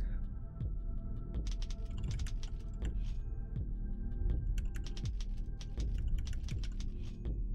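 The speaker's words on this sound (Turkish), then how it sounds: "Ben bu klavyede yazı yazmaya alışık değilim ki." Rapid typing on a computer keyboard during a speed-typing game: a steady stream of quick, close plastic key clicks over a low background hum, with no talking.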